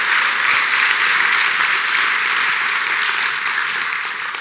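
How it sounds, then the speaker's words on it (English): Conference audience at a Laracon AU 2024 talk gives a sustained round of applause, a dense, even wash of many hands clapping at steady loudness throughout, with no speech over it. "can we give one more round of applause to Dorinda and everyone involved in this?"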